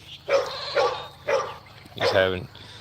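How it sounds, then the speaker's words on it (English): A farm dog on a homestead with goats barks three times in quick, evenly spaced bursts, loud and close by. "And then we got the dog, which is Simba"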